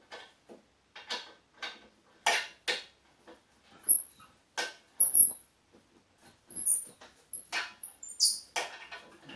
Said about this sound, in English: Listening to that terrible squeak.